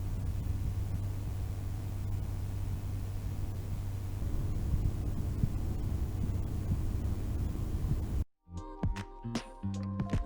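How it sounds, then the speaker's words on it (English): Corsair LL120 and LL140 RGB PC fans running at 600 RPM give a steady low hum and soft airflow whoosh, continuous and fairly quiet, ending with a few sharp clicks and knocks. "The first test was done at the minimum speed both fans can operate, and that's 600 RPM."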